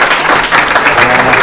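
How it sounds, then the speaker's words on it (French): Audience at a gala applauds in a loud, close burst of clapping with some crowd noise and a voice mixed in beneath it. "donc n'hésitez pas à applaudir."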